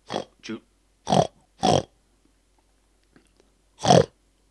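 A human voice imitates a pig, making five short, harsh snorting bursts in an uneven rhythm, close to the mic, with silence between.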